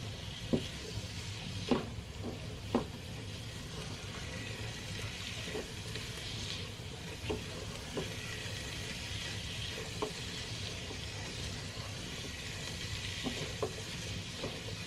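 Food fries in a pan with a faint, continuous sizzle while a utensil stirs it, giving soft scrapes and a few sharp taps against the pan at irregular intervals.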